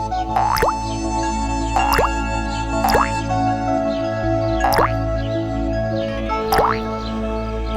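Pebbles drop one by one into a pot of water, five distinct plopping splashes at roughly even intervals over a steady background music bed.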